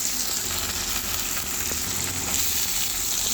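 Onions frying in hot oil with garlic, bay leaf and whole garam masala, a steady broadband sizzle holding even and close throughout, with faint stirring scrapes and no talk.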